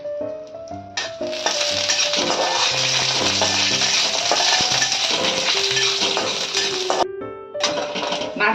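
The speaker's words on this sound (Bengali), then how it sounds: "কাজু আর নারকেলটা আমি ঘিতে ভেজে নেব।" Cashews and coconut fry in hot ghee in a wok, a steady bright sizzle with clinks and scrapes of a spatula stirring against the metal, close and loud, over faint background music and no speech.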